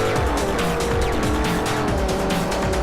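A race car in Forza, an R8 on the Camino Viejo de Montserrat hill course, roars at high revs with squealing tires through a corner. The steady engine and tire noise fills the whole moment.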